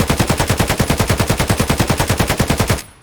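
An AK rifle in Escape from Tarkov fires one sustained full-auto burst of about thirty rapid, evenly spaced loud shots, ending abruptly after nearly three seconds.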